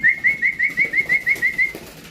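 Young pigeons kept by a bird keeper give a quick series of about ten sharp, evenly spaced high calls, close and clear over a quiet background.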